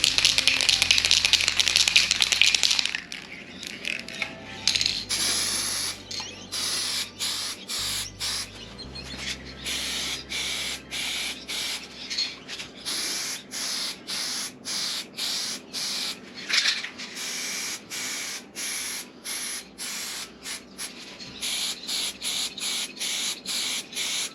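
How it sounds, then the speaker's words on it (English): A can of primer for a soft plastic caravan exhaust hatch is shaken, with its mixing ball rattling, then sprayed in a run of short, sharp hissing bursts with brief pauses between them. "Shake the primer for 3 minutes."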